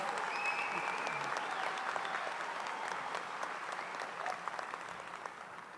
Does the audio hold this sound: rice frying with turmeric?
no